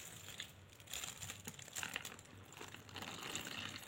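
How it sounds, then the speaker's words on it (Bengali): Thin masoor dal, watery but not too runny, poured onto a plate of rice in a hotel restaurant near Kamakhya Temple in Guwahati, giving soft wet splashing with some crinkling, faint and steady for about four seconds. "ডালটা এইখানে দিয়ে দিচ্ছি"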